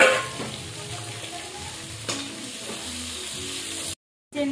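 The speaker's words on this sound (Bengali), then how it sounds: "এর মধ্যে আলু অল্প ভাজা হয়েছে, এর মধ্যে আমি পেঁয়াজ লঙ্কা টমেটো দিয়ে দেবো।" Potatoes frying in a pan with onion, chili and tomato, a steady close sizzle with a few stirring scrapes, alone without talking and cut off briefly near the end.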